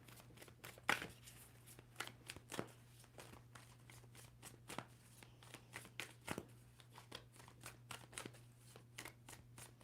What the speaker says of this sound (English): Two more shuffles for Libra.